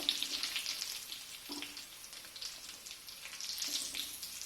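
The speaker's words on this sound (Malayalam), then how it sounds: "ബാക്കി എടുത്തു വച്ചിരിക്കുന്നത് കൂടി നമുക്കിതുപോലെ ഫ്രൈ ചെയ്തെടുക്കാം" Peanut butter chicken fries quietly in a pan, giving a soft, steady crackling hiss with a few faint clinks.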